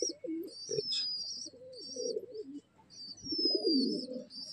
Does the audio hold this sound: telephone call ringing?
no